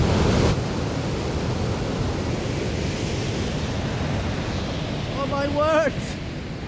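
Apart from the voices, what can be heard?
waterfall at New Lanark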